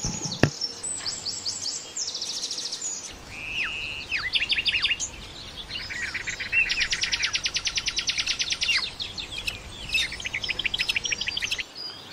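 Songbirds sing among leaves and branches, a run of bright chirps, trills and rapid repeated notes layered from several birds, fairly close and steady throughout with a soft background hush.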